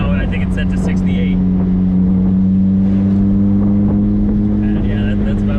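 Turbocharged Toyota MR2 engine droning steadily up through the revs from inside the car, a strong low hum with rising harmonics running continuously, wind and road noise around it.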